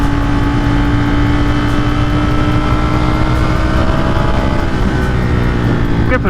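Steady, loud engine drone of a Ducati-style sport motorcycle held at cruising revs while riding through turns, continuous and close-up with wind rumble and no talking.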